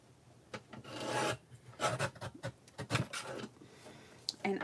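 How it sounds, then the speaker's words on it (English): Paper trimmer cutting white borders off craft paper, heard as a series of close, rasping scrapes and rubbing strokes in irregular bursts, with a few sharper clicks between them. "I'm going to trim off the kind of white borders here"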